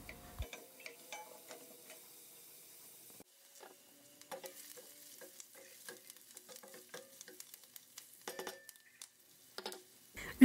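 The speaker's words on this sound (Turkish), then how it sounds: "soğanların kokusu gelene kadar kavuralım." Chopped onions sautéing in a pot for a red lentil, beetroot and potato soup: a soft, steady sizzle broken by irregular spoon clicks and scrapes against the pot, close and fairly quiet, with no talking.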